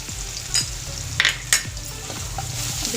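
Garlic paste with red chili powder frying in a pan, a steady loud sizzle broken by a few sharp scrapes and taps of a spoon against the metal.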